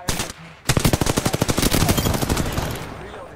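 A rapid burst of automatic gunfire in the battle royale game Apex Legends, about twenty close, loud shots in a fast even rhythm, following a brief single shot and a short pause.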